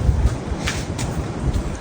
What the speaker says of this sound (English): The wind has just been hammering all night long.